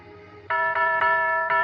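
A doorbell chimes in a Christmas Eve radio drama, a clear two-tone ding-dong repeating several times in quick succession, close and loud with no talk over it.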